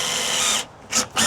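A power drill driving screws into the wood of an Adirondack chair: a loud whirring buzz, a short pause, then two brief further bursts, close up and without talk.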